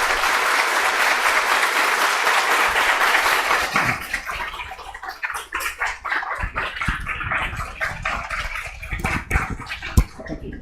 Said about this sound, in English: We can give a big applause to Dr. Philip Marriott.